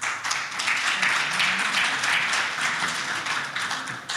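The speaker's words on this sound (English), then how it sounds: "So please, a round of applause." Audience applause at a panel event marking fifty years of success, a steady round of clapping filling the room for about four seconds before tapering slightly at the end.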